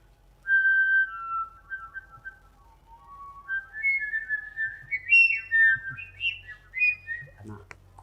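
A person whistles imitations of bird calls as part of a theatre performance, shifting warbling and trilling phrases that rise in pitch and grow busier toward the end, clear and close with no talk.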